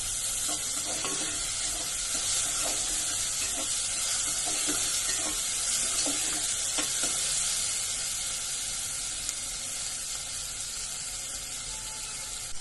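Onion and tomato sauté in a pan on medium heat, making a constant sizzle with light scraping and stirring clicks through the first half. The sound is fairly loud and close, with no voices.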